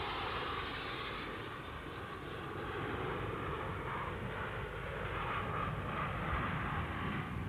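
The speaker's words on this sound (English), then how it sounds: "Number 800 Squadron, the Royal Navy Aerobatics team of 9 Scimitars" A formation of nine Royal Navy Scimitar jets flies aerobatics at the Farnborough air show, a steady, broad roar of jet engines that holds constant throughout, heard at a distance without speech.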